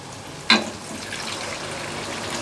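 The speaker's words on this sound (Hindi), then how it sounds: "अब हम इसमें पानी ऐड करते हैं।" Water is poured into a pan of potatoes that have been frying for five minutes over a low-medium flame for an aloo shimla mirch (capsicum potato) curry. It hits with a sudden splashing burst, then settles into a steady, loud sizzling hiss.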